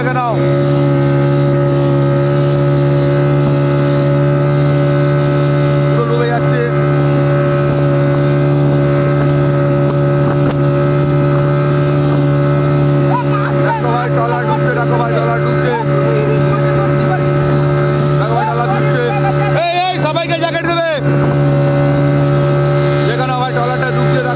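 A loud, steady fishing trawler engine drone hums the whole time with a constant tone at sea off Digha as the trawler sinks, while voices talk faintly underneath.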